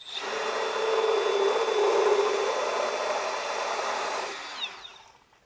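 Cordless Milwaukee M12 Fuel low-speed tire buffer running steadily for about four seconds while cleaning out a drilled hole from inside a tire, a loud continuous whirring grind that then winds down and stops.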